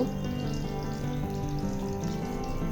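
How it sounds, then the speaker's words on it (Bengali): Batter-coated capsicum chop stuffed with spiced potato filling, slipped into hot oil and frying with a steady, even bubbling sizzle that runs close and moderately loud throughout. "চুবিয়ে আমি সরাসরি তেলে দিয়ে দিব।"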